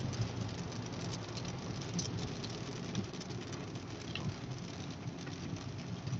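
Steady, loud rain drums on a moving car during a drive, a dense continuous patter with no voices.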